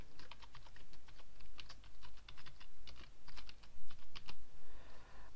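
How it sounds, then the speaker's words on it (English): Rapid, uneven bursts of keystrokes on a computer keyboard, close and clear in a quiet room, with short pauses between runs of clicks and no talking. "Simply type in your title."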